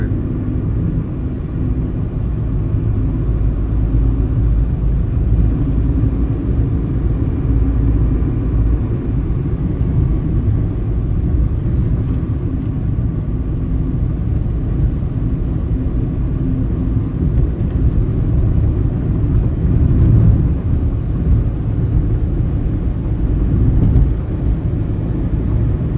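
Vehicles pass on the Mumbai–Goa highway, heard as a loud, continuous low rumble of traffic and road noise that swells slightly at moments, with no voices.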